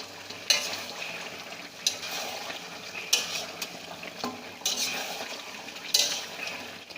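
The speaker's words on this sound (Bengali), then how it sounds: "এবার আমি এটাকে ভালো করে নেড়ে দেব।" A spoon stirs country chicken curry in a metal pot as the chicken sizzles in its own released juices, with scraping strokes and sharp clinks against the pot rim at irregular intervals under a soft steady frying hiss.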